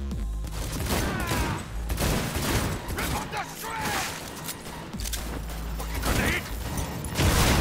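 Gunfire crackles in Cyberpunk 2077, with clustered shots and mechanical clatter recurring steadily at moderate loudness, with some talk in between.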